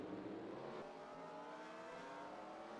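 A race car engine roars steadily at Martinsville as a car spins out, with a dense, sustained revving tone and no voices heard.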